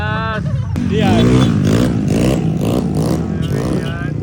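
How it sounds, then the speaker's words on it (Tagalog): Several motorcycle engines rev loudly and close by, their rising and falling roar running in pulses, with voices audible in the background. "Lalakas na mga motor nila."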